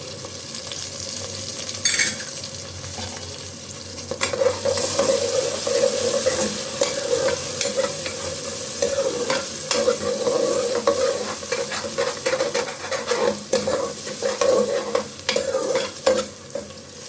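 Fresh shelled green peas sautéing in a pan with garlic, a continuous crackling sizzle broken by repeated scraping strokes of a spoon, close and fairly loud throughout.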